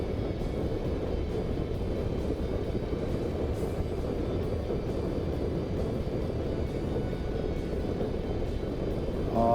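Piper J-3 Cub hybrid light airplane landing in a gusty crosswind at sunset, a steady close engine drone with wind rush and no voices.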